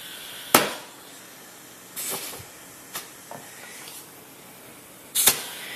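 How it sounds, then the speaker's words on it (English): A truck tire bead seating on the rim during manual mounting: sharp pops at the start and end with a few smaller bursts and hissing air between, close and loud with no talking. "once it's seated on there, that's when you heard that pop"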